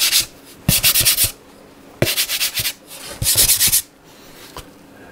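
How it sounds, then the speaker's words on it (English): Hand rubbing over the outside of a wooden violin plate in a violin maker's workshop, three bursts of broad scratchy friction strokes with quiet pauses between them, close and fairly loud. "this can be determined by rubbing, or when I tap from the outside a little bit harder"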